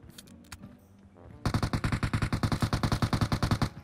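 Automatic gunfire in PUBG Mobile, a rapid, even stream of about twenty close, loud shots following a few scattered sharper cracks.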